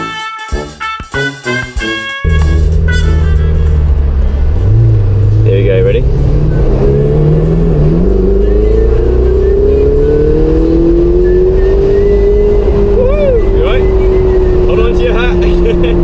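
A Ferrari engine roars up loudly and holds a throaty, climbing growl as it accelerates, after a brief moment of voices.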